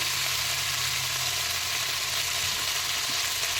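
Food fries in a pan after salt is added, a soft, even sizzle that runs steadily and close throughout without any speech.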